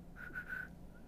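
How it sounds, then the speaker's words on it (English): A person whistles a short steady tone in three quick bursts followed by a faint fourth, close and clear, to demonstrate the lip shape used for a bassoon embouchure. "So if you think of whistling"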